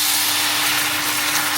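Vegetables frying in a hot pan just after water is added, a loud steady broadband sizzle and hiss of steam filling the whole clip, close and unbroken with no talk.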